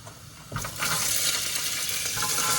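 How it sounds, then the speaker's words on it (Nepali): Kidney beans drop into a pan of browned frying onions, setting off a sudden loud sizzle with the scrape of stirring. Before that comes a quieter background hiss. "अब मैले यहाँ राजमा हालिदिँदैछु यसरी है।"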